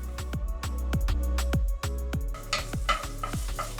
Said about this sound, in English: you're gonna brown the tomato paste with your garlic